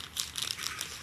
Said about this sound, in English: we're gonna get out our piece of aluminum foil